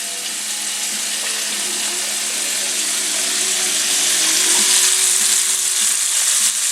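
Calamari rings dusted in flour frying in hot oil, a steady dense sizzle that holds loud and close throughout with faint bubbling crackle, no voices.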